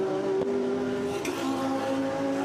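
A DTM race car engine at the Norisring street circuit during 2022 free practice, a steady sustained engine drone with strong tonal harmonics, loud and continuous throughout with no talking.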